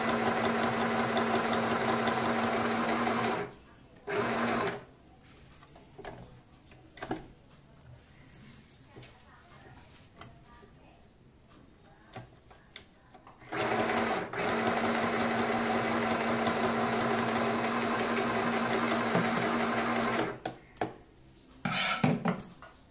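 A sewing machine stitches a bra in two long, steady bursts, with quieter handling of fabric and a few short clicks and taps in the gap between the runs.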